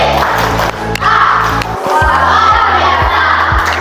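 Schoolchildren in an Indonesian classroom shout a loud group chant together, close and energetic, with a few rhythmic claps marking the beat and a low hum running beneath.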